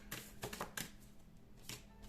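Tarot cards are drawn and handled in quick papery bursts: several crisp flicks and slaps, a pause, then another flick, quiet and close with no talking.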